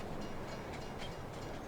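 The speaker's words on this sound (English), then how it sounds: "Here it is. The train." A train rolls past steadily in a farming survival video game, a continuous rumbling wash of wheels and carriages with faint rhythmic clacks, fairly loud and without speech.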